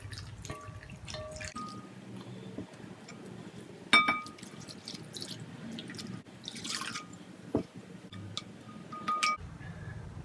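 Water poured and swished in a bowl as flour and white vinegar are mixed in for washing sacrificial meat, with drips, splashes and occasional clinks of a container, close and fairly quiet, no talking.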